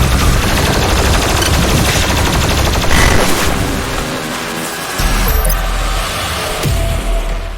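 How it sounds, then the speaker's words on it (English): A chain gun in DOOM Eternal fires a dense, loud, continuous stream of rapid shots, with booming impacts and brief dips in the barrage. "The chain gun."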